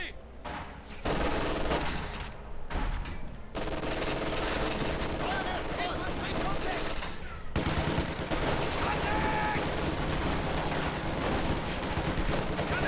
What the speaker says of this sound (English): Shock troops getting suppressed again by the MG42s